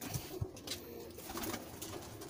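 Pigeons coo softly in the background amid faint ambient noise, a few low murmuring calls.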